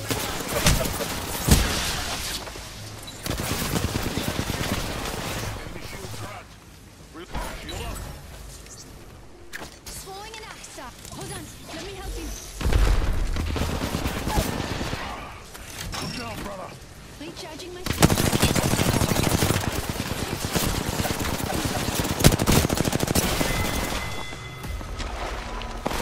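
Machine gun fire in an aerial combat video game, rapid bursts and sustained rattling volleys coming in several loud waves separated by quieter stretches, with radio chatter and talking throughout.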